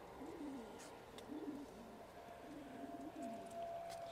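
Pigeons in a loft, males courting a female, giving repeated low rolling coos in a loose rhythm, close but quiet, with faint background noise.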